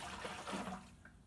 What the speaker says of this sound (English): I'm going to pour it in my handy dandy bucket